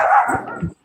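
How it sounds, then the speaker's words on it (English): A dog in a home lets out one quick bark with a slight whimpering edge, close and fairly loud, then silence. "Sorry about my dog"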